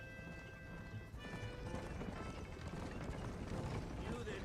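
Horse hooves clip-clopping at a brisk gallop in the Red Dead Redemption video game, a steady close rhythm under ambient game sound and faint voices.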